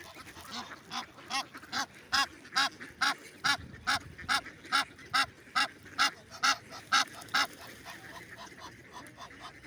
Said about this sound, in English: I guess this is the goose sound to make the honking sound.